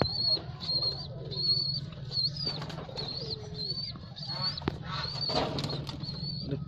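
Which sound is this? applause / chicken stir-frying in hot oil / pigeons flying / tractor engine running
pigeons flying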